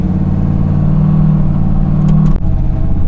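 A 1500hp street-legal Holden Ute pulls away from a standstill, its engine droning loud and steady close by, with a brief break in the tone near the end as power shifts.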